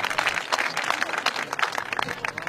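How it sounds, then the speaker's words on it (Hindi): Brief burst of audience clapping at a ghazal poetry gathering, dense and steady for a couple of seconds, moderately loud with no talk over it. "ख़ूबसूरत शायर वसीम सुमरो तव्हांजे ताड़ियुनि जे भरपूर आवाज़ में"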